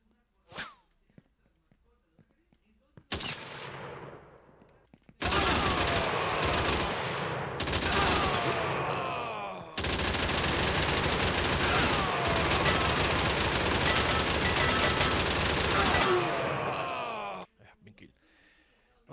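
Rifle fire in an Unreal Engine 4 arcade beat-'em-up comes as long, loud bursts of rapid automatic shots after a few scattered single cracks, with no speech.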